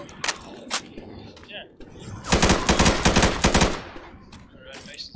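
Bursts of automatic gunfire ring out while fighting zombies in the video game Left 4 Dead 2, with a couple of early single shots and then a loud sustained volley, over faint background game noise and voices.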